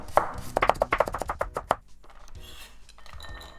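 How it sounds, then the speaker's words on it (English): A knife chopping a carrot on a cutting board for Japanese-style potato salad, a quick run of about a dozen crisp, close taps that speeds up, then stops, leaving faint clinks of handling. "next I'm going to cut up the carrot"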